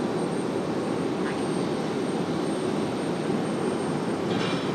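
An Alaska Airlines plane departing RDU for San Diego gives off a continuous, fairly loud engine roar with a faint rising whine partway through, steady and unbroken.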